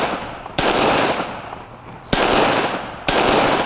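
Three loud pistol shots from a Smith & Wesson Shield 380 EZ fired at small steel plates outdoors, each a sharp crack followed by a long ringing decay, spaced unevenly over a few seconds.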